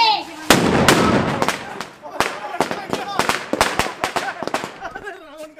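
Firecrackers burst during the burning of a Ravan effigy at a Dussehra celebration, one loud blast followed by a rapid, irregular string of sharp cracks and pops close by, with voices in the background.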